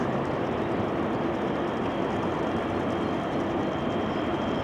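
A steady, loud rolling rumble of a train passing far below, heard from high ground near Folkestone, continuous throughout with no voices.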